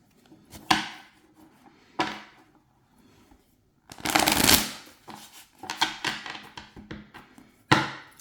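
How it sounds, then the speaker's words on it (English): Tarot cards riffled and bridged in several quick bursts, close up, with a long loud shuffle in the middle and short snaps between, no talking. "But are you hearing the shuffle?"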